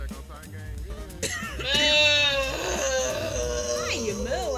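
A person in a game-streaming session draws out a long, wavering vocal moo imitating a cow, rising loud and harmonic in the middle before sliding down, mixed with other voices and game sound.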